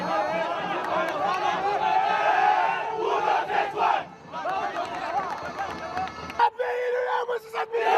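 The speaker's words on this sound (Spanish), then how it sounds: "Final juvenil, aplauso enorme" A big stadium crowd roars and chants loudly and continuously after a youth football final, with many voices merging into a dense wash of cheering before an abrupt shift to a thinner crowd noise near the end.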